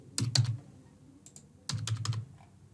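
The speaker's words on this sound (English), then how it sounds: "I am going to enter test card details over here." Test credit card details being typed on a computer keyboard at a checkout payment form: two quick bursts of key clicks with a pause between, fairly close and clear, no voices.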